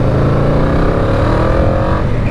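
A Yamaha VMAX motorcycle engine roars close by, a loud, steady, rising rev as the bike pulls away.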